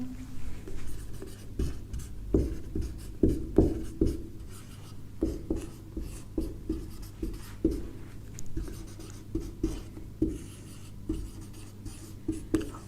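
Chalk strokes on a board during a chemistry lesson come as a string of short scratchy taps in irregular bursts, close and fairly loud, with no talking.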